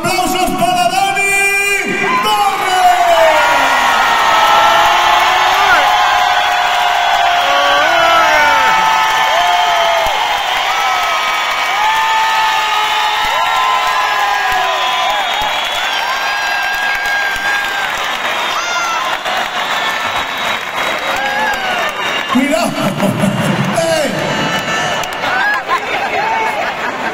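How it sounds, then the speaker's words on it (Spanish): Crowd at a freestyle motocross show roaring with sustained applause, whoops and yells, loud and continuous for nearly half a minute, with shouting voices rising above the din. "Vamos a aplaudir con narices ahora"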